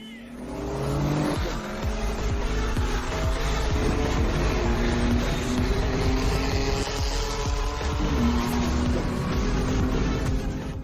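A Lexus RC-F 500 and a BMW M4 carrying four people launch from a standing race start in Japan, engines roaring loud and rising through gears with brief tire squeal, then sustained acceleration.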